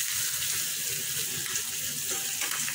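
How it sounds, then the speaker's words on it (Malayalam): Masala-coated chicken fries in butter in a pan, giving a continuous close bright sizzle and hiss with no talking. "ദാ ഇനി ഒരു 2 മിനിറ്റ് കൂടി ഒന്ന് ഇത് ഫ്രൈ ചെയ്ത ശേഷം നമുക്ക് ഇത് എടുക്കാം"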